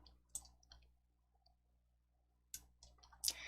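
Computer mouse right-button clicks in a quiet room, a few sharp faint clicks close together near the start and another small cluster near the end, with no talking.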